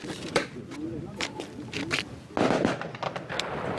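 Sharp crackling pops of grass burning after a grenade launcher shot burst out in irregular runs, with a voice heard faintly underneath the sputtering.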